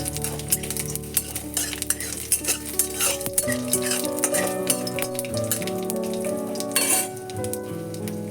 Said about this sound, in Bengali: এবার এর মধ্যে দিয়ে দেব 1/2 টিস্পুন মতো কালো সর্ষে আর 2টো শুকনো লঙ্কা এমনি 2 টুকরো করে দিয়ে দিচ্ছি।